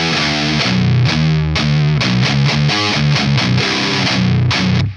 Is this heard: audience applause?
no